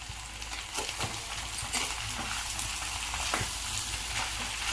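Dry coconut powder being stirred into a potato curry frying in a pan, with a steady, close oil sizzle and scraping spoon strokes throughout, no voices.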